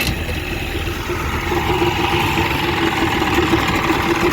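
A vehicle engine runs at a steady idle, a low rumbling drone with a faint humming tone, growing slightly louder partway through.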